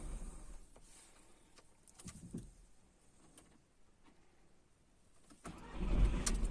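A Seat Alhambra 2.0 TDI diesel engine cranks and catches after sitting unused, the start-up rumbling loudly near the end following a quieter stretch of faint mechanical noise.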